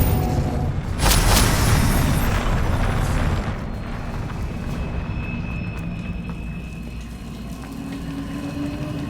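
A heavy booming blast from a Confringo spell in Hogwarts Legacy, loud near the start, then fading into a rumbling, crackling tail under game ambience.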